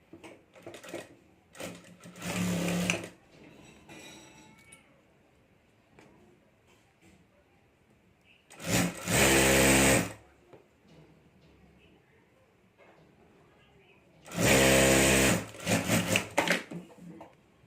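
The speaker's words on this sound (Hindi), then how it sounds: "यहाँ मैं सिलाई करके जिप और ये अस्तर जोड़ देता हूँ" A sewing machine stitches a zip and lining onto a clutch purse in three loud, fast-running bursts separated by quieter handling and faint background sounds.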